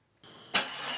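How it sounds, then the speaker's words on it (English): A car engine cranks and catches during a workshop diagnostic test: a brief quiet, then a starter whir, a sharp burst as it fires, and a steady idle that follows, close and clear with no talking. "let's start the vehicle"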